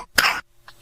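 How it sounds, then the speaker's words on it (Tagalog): A child coughs in a medicine advertisement for a lagundi-based children's cough syrup: one loud, harsh cough burst up close, followed by a fainter short cough a moment later. "Ubo ng anak, nakababahala,"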